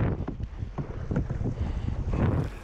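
A canoe crossing rough, choppy water on Saginaw Lake in the Boundary Waters Canoe Area Wilderness, Minnesota, with wind buffeting the microphone and waves slapping the hull in a steady, loud, rushing wash.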